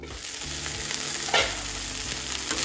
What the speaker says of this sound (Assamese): মিডিয়াম ফ্লেমত 10 মিনিটমান ভাজি ল'ম।